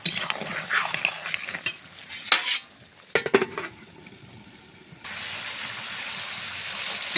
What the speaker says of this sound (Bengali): ভেজে ভেজে কষিয়ে নেব